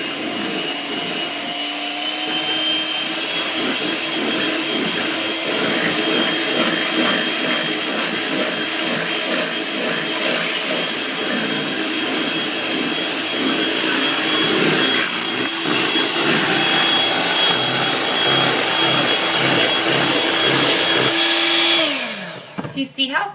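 Electric beater whirring steadily through pumpkin mousse pie filling, a loud continuous motor drone with a high whine that runs unbroken for about twenty seconds before cutting off.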